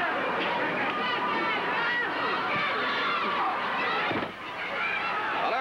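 Crowd noise at a professional wrestling match, a steady murmur of spectators filling the arena under continuous commentary.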